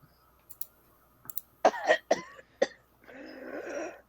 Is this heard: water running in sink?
no